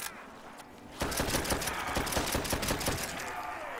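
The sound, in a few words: gunfire in video game Call of Duty: World at War zombies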